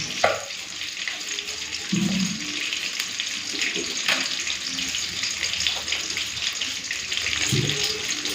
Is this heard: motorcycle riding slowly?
no